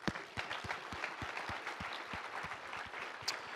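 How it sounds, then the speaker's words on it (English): An audience at the TechCrunch Disrupt SF 2019 tech conference applauds startup founders, a steady, fairly faint crowd clapping heard from a distance with a few distinct nearer hand claps. "let's give a big round of applause to all of the founders you saw on stage."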